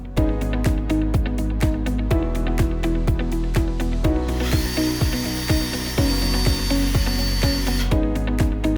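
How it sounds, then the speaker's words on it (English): A power drill bores two holes in a metal plate, revving in steady rhythmic pulses with a sustained high whine as the bit cuts through, close and loud with no talking. "We make two holes in the plate at the same height."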